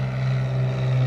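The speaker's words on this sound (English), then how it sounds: "oh, excuse the plane." A Cessna propeller plane passes overhead with a loud, steady droning engine hum that fills the whole moment.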